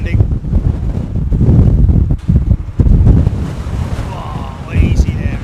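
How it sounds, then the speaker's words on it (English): A strong gust of wind batters the microphone at London Heathrow Airport, a loud low rumbling roar that surges and dips across the whole stretch, with a voice talking faintly underneath. "That's a big gust of wind, that is."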